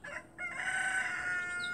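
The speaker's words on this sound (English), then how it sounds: "And the chicken." A rooster crows once, loud and close, in a long drawn-out call with a short clucky start, heard alone without talk.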